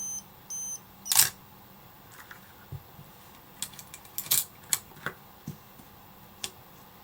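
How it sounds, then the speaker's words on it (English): Quiet camera mechanics from an Olympus OM10 film camera: a few soft beeps and small clicks of the self-timer spaced over several seconds, then a sharper mechanical snap of the shutter, close and otherwise still. "the lens shuts down to the predetermined aperture, and then I have 12 seconds before the shutter releases."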